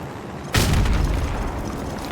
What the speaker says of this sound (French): On va rigoler un peu avec les charges de démolition.